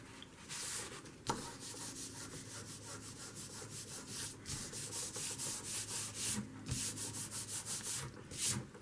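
Fingers rubbing dried glue blobs off paper pages, a close, continuous dry scraping and rubbing in rhythmic strokes, with no talking.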